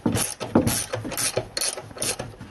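A ratchet wrench loosens a nut through the fender well of a 2015 Chevrolet Tahoe during leveling kit installation, giving rapid clicking ratchet bursts in quick repeated strokes, close and fairly loud, with no talking.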